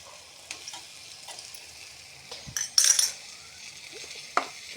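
Soaked moong dal tipped into a hot pan for a fenugreek leaf stir-fry, giving a quiet sizzle with a few sharp spoon-and-pan clinks and one brief louder clatter in the middle, no talk.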